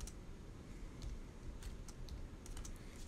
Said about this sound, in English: this is where we can start typing in certain pieces of code